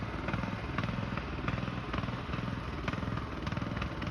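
Racing lawnmower fitted with new rear tires and a smaller drive pulley, its engine held at top speed in a steady, loud, continuous drone with a rough buzzing rhythm and no talk.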